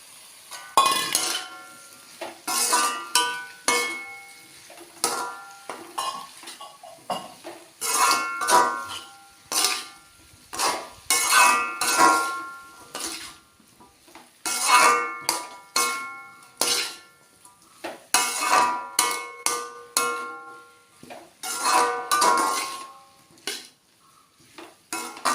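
Chopped capsicum, onion, garlic and ginger are stirred in a pan for chilli chicken, with repeated scraping and clanking of a metal spoon against the pan in uneven bursts over a faint sizzle.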